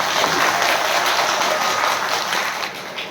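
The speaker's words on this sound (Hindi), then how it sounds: "एक बार हमारे व्यास जी के लिए जोरदार तालियां हो जाए" A seated audience at a Hindi religious discourse on Krishna claps loudly for the speaker, a dense, even roar of applause that carries steadily throughout before easing slightly at the end.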